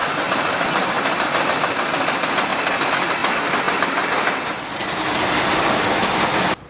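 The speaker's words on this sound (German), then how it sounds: "die alten Schwellen werden von einem Greifer aus dem Schotter gerissen und über ein Förderband nach hinten transportiert" A track renewal train after a freight train accident at Burgstall, moving at walking pace as it grabs old sleepers from the ballast, conveys them rearward and lays new steel sleepers and rail. It makes a loud, steady grinding rumble that dips briefly midway, with no talk.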